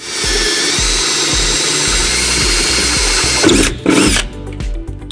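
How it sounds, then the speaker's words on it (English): Power drill enlarging pilot holes to 3/8 inch in the aluminum bed of a 2016 Ford F-350 pickup, a loud steady whine running almost continuously, then a few brief bursts near the end as the bit breaks through. "So we'll be enlarging our pilot holes to 3/8 to put those in."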